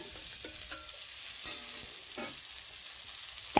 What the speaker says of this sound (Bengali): এখন দেখুন আমি ভুট্টাগুলো ঢেলে দিলাম